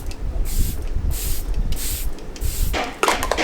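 Setting spray misted from a pump bottle in bursts of airy hiss, several short sprays in a row at close range, with a clatter and handling noise toward the end.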